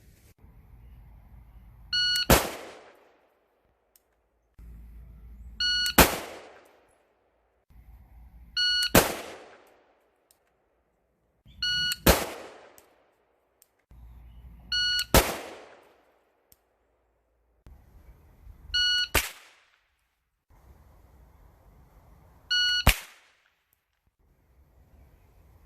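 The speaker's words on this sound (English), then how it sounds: "on the beep from the shot timer, I'm just simply going to come up and fire one shot" Seven rounds of a shot timer's high electronic beep, each followed almost at once by a single sharp report from an AR22 or AR15 rifle, evenly spaced with short pauses of quiet between.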